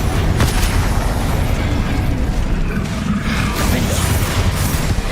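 In Hogwarts Legacy, an Incendio fire spell goes off as a loud, dense, booming blast. A continuous roaring crackle follows it and fills the whole stretch, with no talking.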